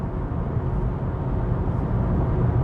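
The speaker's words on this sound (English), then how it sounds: "But now you guys can hear how loud this car is." Volvo EX30 Twin Performance Ultra electric car driving, a loud steady road and tyre roar with low rumble filling the cabin, no voices.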